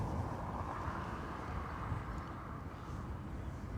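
A Ryanair airliner departs Dublin Airport for Corfu, giving a steady, distant broadband jet roar that holds at a constant level and stays fairly faint.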